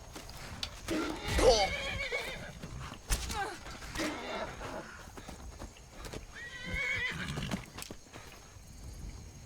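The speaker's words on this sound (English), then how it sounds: "this horse really wants me done for" A horse in the Skyrim video game neighs and whinnies loudly, with clip-clop hoof sounds and game effects throughout, in bursts close to the listener over roughly nine seconds.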